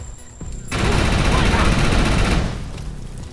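Sustained automatic gunfire in the video game Defiance, a dense, loud rattling burst lasting over a second before easing into lower background game noise.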